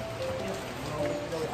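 Rain falls on an outdoor surface at a farm, a steady close patter of drops that runs without a break under people talking.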